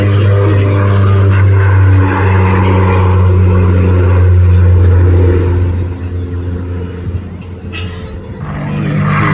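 A Hawker Hurricane flies past at an air display, its piston engine a loud, steady drone with strong low harmonics for about six seconds before easing off and fading, with faint crowd noise beneath.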